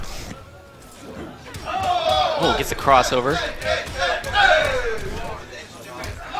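Tournament crowd at a Mortal Kombat XL match cheers and roars in swelling waves, loud and sustained, while commentators talk excitedly over the noise.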